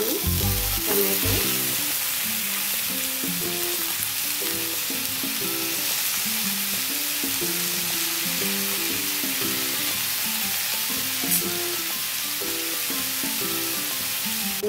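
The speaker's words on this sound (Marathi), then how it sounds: "टमॅटोचा कच्चा वास जाईपर्यंत आम्ही आता ह्याला फ्राय करून घेऊया।" Chopped tomatoes fry with onions in a pan, a steady close sizzle running throughout with a few stirring knocks at the start and occasional spatter pops, no voices.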